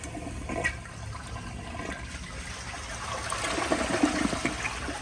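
A 2002 Kohler Santa Rosa Ingenium toilet flushes with a soft rush of water that swells toward the end, recorded close and fairly quiet.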